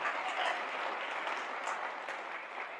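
Applause from a church congregation during a Spanish-language worship service, a steady wash of clapping held at an even level throughout, with no voices over it.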